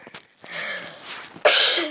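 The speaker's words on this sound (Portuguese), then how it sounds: "tá tossindo muito aqui no vídeo" A few short, rough coughs in quick succession, fairly close, with a louder harsh burst near the end.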